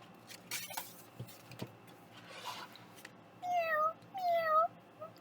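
A voice imitates a cat, giving two drawn-out meows in close succession near the end after some soft rustling and clicks.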